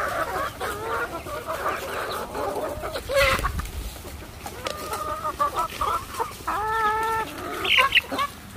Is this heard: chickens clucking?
yes